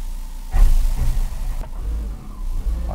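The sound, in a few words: car driving forward onto brake tester to test handbrake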